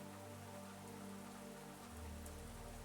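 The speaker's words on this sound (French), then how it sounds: "Le son de la pluie" Steady rain falls beside a calm lake at a Finnish spa, a dense, even hiss of drops on surfaces that holds constant throughout, with no voices.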